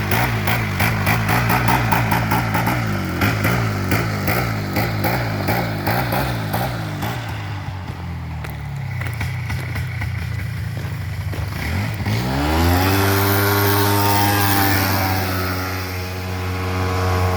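Polaris 4x4 four-wheeler with a suspected bad transmission, its engine running roughly with uneven pulsing and sputtering, then settling into a steadier, louder idle hum near the microphone.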